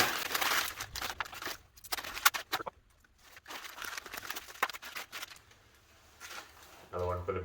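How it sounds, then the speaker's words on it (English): Sheets of wrapping paper crinkle and rustle in bursts while a Christmas gift is wrapped, close and fairly quiet, with brief pauses between handling. "Almost gonna run out of wrapping paper here."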